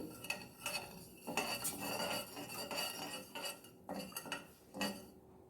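A spoon clinks and scrapes around a pot as half a cup of sugar is stirred into water on the heat, in a series of short metallic strokes with brief pauses, fairly close and with no talking.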